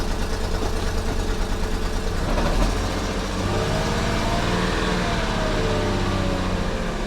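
A car engine with a solid misfire and a suspected exhaust leak near the catalytic converter, revving and idling loudly and close, with a rough, uneven pulsing note and one brief rise in revs.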